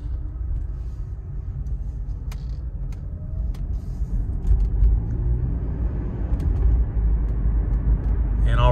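A 2012 Toyota Prius driving at about 30 mph, with a steady low road rumble and faint creaks, under someone talking.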